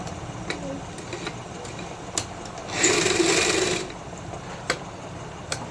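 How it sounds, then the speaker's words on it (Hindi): A sewing machine stitches a salwar at close range, with one short burst of rapid mechanical whirring, framed by soft handling noise and a few sharp ticks. "मैं इस तरह से सिलाई लगा रही हूँ।"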